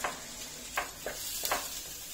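Steady sizzling of Turkish saç tava frying in a pan, a constant bright hiss with a few short bursts of louder crackle and stirring scrapes, close and without talk.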